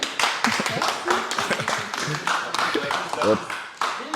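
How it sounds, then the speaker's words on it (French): Scattered clapping breaks out on a dating game show set while people keep talking and laughing over it, the claps uneven and bursting in short clusters. "Et ça s'applaudit."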